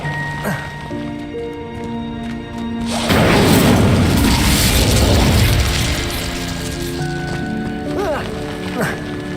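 An Incendio fire spell cast in the Hogwarts Legacy video game bursts into a loud whooshing blast of flame mid-clip, roaring for a few seconds over game music before fading back, with spoken voices around it.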